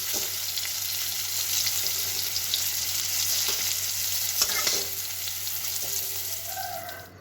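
Potatoes, carrots and vegetables sizzle steadily in a hot pan for upma, with occasional scraping and clinks of stirring, close by and without talk.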